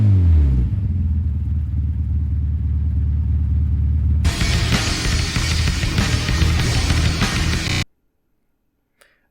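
A carbureted Toyota Celica TA22 2T-G engine rumbles at idle nearby, then revs into a loud, rattling roar for a few seconds before cutting to silence.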